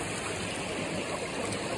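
Clear, cold stream flowing over a rocky bed in Wales, a steady close rush of water that holds even throughout, with no voices.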